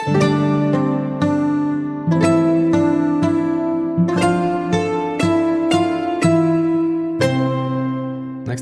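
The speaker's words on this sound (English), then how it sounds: "And here is the mandolin part together with the harp" A mandolin part with harp rings out in a stream of plucked notes, each attack sharp and bright and then decaying, with low sustained tones beneath and a steady melodic rhythm, loud and close with no voices.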